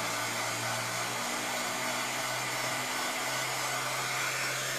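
Hair dryer blowing steadily at close range over a biscuit (cold porcelain) clay gift box craft, a continuous loud airy whoosh with a low motor hum and no talking.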